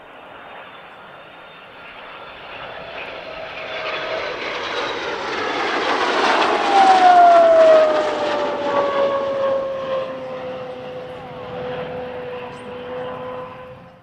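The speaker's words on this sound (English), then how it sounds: "This was the first time a Starfighter had flown in Italian skies" An F-104G Starfighter jet roars past at the Italian Air Force centenary airshow. The loud engine swells to a peak as it passes overhead, then fades away with a falling, whining pitch. No voices are heard.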